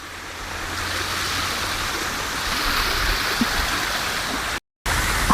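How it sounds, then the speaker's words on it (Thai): A small, shallow waterfall at a campsite in Kaeng Krachan rushes steadily, a dense, even wash of falling water that fills the whole stretch, broken only by a brief dropout near the end. "เดินมาดูน้ำตกกันค่ะ"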